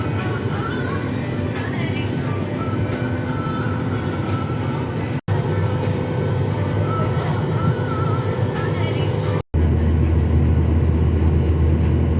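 Steady, loud broadband drone of a small plane's cabin in flight, continuous engine and airflow noise with two brief dropouts near the end.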